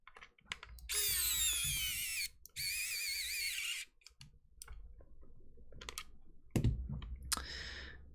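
A small electric drill whirs in two bursts of a couple of seconds each while restoring a Virtual Boy controller, with clicks and handling noises around them; quiet and close.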